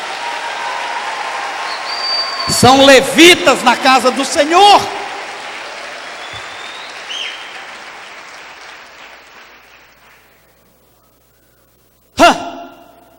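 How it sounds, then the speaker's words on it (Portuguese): A church congregation at an evangelical preaching event applauds its workers: a loud burst of clapping lasting about two seconds, mixed with voices and cheering, then a preacher's amplified voice continues over the fading room. "Vamos dar um aplauso a esse pessoal que trabalha aqui."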